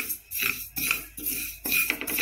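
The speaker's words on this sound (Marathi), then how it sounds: "तिळ टाकते आता तिळ छान आपण भाजून घेऊ" Sesame seeds roasting in a pan over low heat, heard as close, rhythmic scraping and clinking of a spoon against the metal pan in repeated strokes, with no voices.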